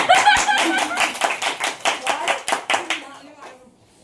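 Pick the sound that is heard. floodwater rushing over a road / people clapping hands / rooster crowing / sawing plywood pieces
people clapping hands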